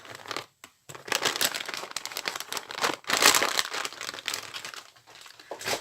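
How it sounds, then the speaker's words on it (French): A glue-free wipe rubs and crinkles across a sequin-covered surface, giving a close, busy rustling with brief pauses between strokes. "On va se refaire un petit coup de lingette sans colle"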